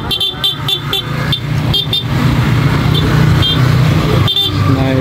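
Dense street traffic with many motorcycles and cars rumbling close by, broken by repeated short horn toots near the start and again toward the end.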